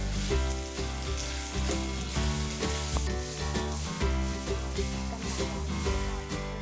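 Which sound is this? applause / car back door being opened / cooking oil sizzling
cooking oil sizzling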